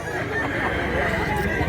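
Chickens and roosters at a busy rural poultry market in Mantalungon, Barili, Cebu, crowing and clucking loudly nearby over a crowded background murmur of voices.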